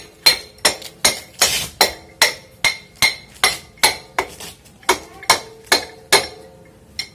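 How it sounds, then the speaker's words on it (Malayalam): Repeated metallic hammer taps drive the axle out of a Bajaj Pulsar 150/180 motorcycle wheel, about sixteen sharp, ringing strikes at a steady, fairly quick rhythm, loud and close with no talk. "എന്നിട്ട് നമുക്ക് ആക്സിൽ ഇപ്പുറത്തുനിന്ന് ചെറുതായിട്ട് തട്ടി തട്ടി എൻ്റെ കഥ കൊടുക്കാം"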